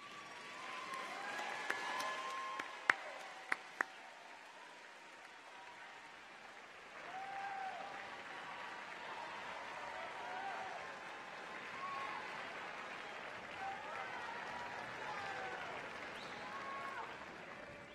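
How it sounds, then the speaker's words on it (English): Graduates and guests rise in a standing ovation at a university commencement ceremony, a broad, moderate wave of clapping with a few sharp claps early on and some scattered cheering mixed in. "I'd like you to join me in a standing round of applause to thank your families, friends, and others that have given you support in the pursuit of your degree"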